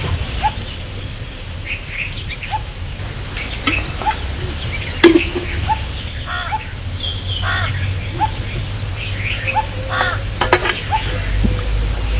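Crow caws ring out several times over a quiet outdoor background in a TV drama scene, sharp calls scattered across the clip with a faint knock and some chirping between.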